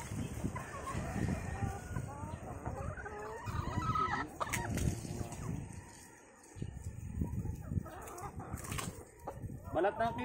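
Brown Nick layer hens cluck and squawk close by while feeding on fruit, with irregular overlapping calls, a brief quiet gap midway, and people talking in the background.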